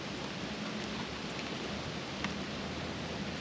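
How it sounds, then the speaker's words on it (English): Rain falling outdoors at night, a steady soft hiss of drops on surfaces with occasional faint drips, continuous and fairly quiet with no voices. "You can hear the rain."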